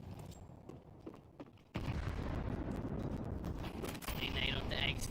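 A grenade thrown in Counter-Strike on the Vertigo map, a sudden loud burst of blast noise after quieter footsteps and clicks, followed by sustained rumbling noise with a caster talking underneath.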